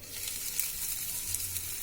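Tandoori chicken cooks in a little oil in a covered pan over a low flame, giving a steady soft sizzle and crackle with faint occasional pops, close and continuous.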